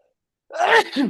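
A single loud, close sneeze in a basement: a sharp inhaled burst followed by a second shorter expulsion, with nothing else heard around it.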